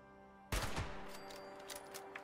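A burst of gunfire in Fallout 76, a loud sudden volley of rapid shots that trails into a lingering rumble and scattered fainter cracks.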